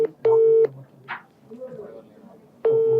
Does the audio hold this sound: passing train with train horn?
no